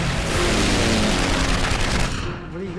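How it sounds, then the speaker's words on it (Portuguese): Bf 109 fighters open up with machine guns during a World War II dogfight against P-47 Thunderbolts: a dense, continuous roar of rapid gunfire and engine noise that stays loud for over two seconds, then drops away. "Os 109 abrem fogo"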